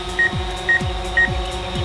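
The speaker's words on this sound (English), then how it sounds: "the beeping noise is starting to drive me a little crazy" Vehicle proximity sensor beeping while backing up, loud evenly spaced high-pitched beeps about half a second apart, repeating over a low hum with recurring descending tones.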